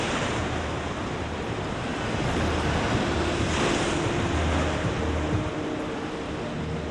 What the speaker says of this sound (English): adults brace against the force of the waves